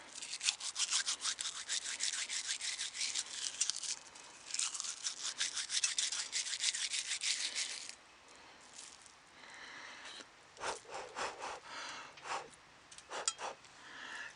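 Dry wheat heads rubbed between hands in a field make a close, dense scratchy rustle for several seconds, then break into shorter separate rubbing bursts with pauses.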